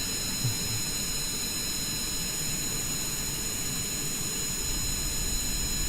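A jet aircraft engine in a video game roars as a steady, loud, high-pitched whine with a constant droning rumble beneath, unbroken throughout and with no talk.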